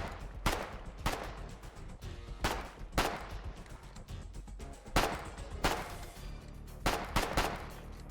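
Gunfire in the war game Foxhole cracks out in loud, irregular bursts of sharp shots, some close and booming, others quicker and rattling, against a steady rumble of battle with no talk.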